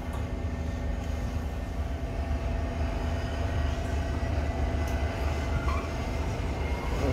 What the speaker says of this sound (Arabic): حنا طلعنا في المترو